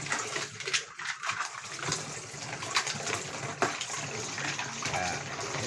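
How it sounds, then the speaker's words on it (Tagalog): Fresh mussels being rinsed under running water for seafood sinigang: a steady, close gush of tap water splashing and sloshing in a basin, with occasional clicks of shells, continuous throughout. "unahin muna nating hugasan aring ayan, tahong"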